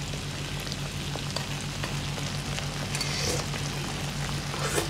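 Shrimp paste mixture simmering in a pan, a continuous close crackle and bubbling sizzle with scattered pops, steady over a low hum.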